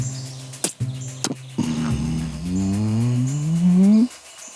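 A man imitates wild turkey spitting and drumming with his mouth: a few sharp spitting pops, then a deep, rising, humming drum that swells and cuts off.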